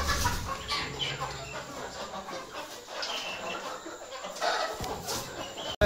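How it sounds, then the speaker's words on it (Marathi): A hen sitting on her eggs clucks near and fairly loud in a farmyard, the low murmuring clucks repeating irregularly over steady background noise. "ती बघा, एक कोंबडी आपली अंड्यांवर बसलेली आहे"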